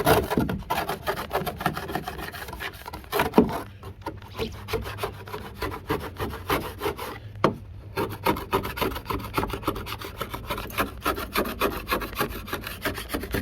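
A rag soaked in acetone scrubs duct tape residue off the hull of a Tarpon 160 kayak, making close, rapid, rasping strokes that continue almost without pause.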